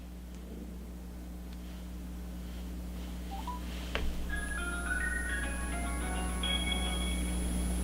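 Someone dials a telephone to place a call for a phone interview, a quick series of electronic keypad tones followed by an irregular run of beeping notes over a steady low hum.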